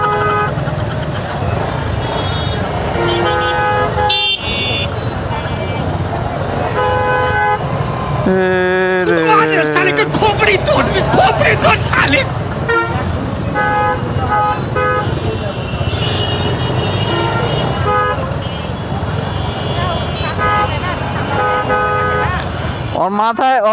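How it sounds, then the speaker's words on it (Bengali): A vehicle horn on a busy road sounds loud and close, with traffic rumbling steadily underneath and one person after another talking over it. "একটা মানুষ কি পরিমাণ পাগল হলে এত পরিমাণ হর্ন দিতে পারে?"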